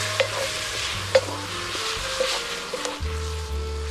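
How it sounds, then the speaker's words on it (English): Steady sizzling of prawns frying in a hot pan, with occasional clinks and scrapes of stirring breaking through the crackle. "You can hear the sizzle."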